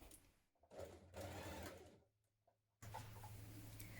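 A sewing machine stitches a dress armhole in quiet bursts, starting, pausing and restarting with a steady mechanical whir, close and alone.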